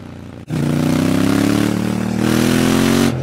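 A Ducati Monster 796 motorcycle engine roars loud and close, holding a steady revving drone that climbs slightly in pitch for about three seconds before cutting back.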